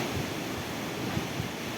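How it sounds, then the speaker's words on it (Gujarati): Strong storm wind roaring at night during a thunderstorm in a village, a steady loud broadband rush with gusty buffeting against the microphone, no voices. "પવન ફૂંકાઈ રહ્યો છે"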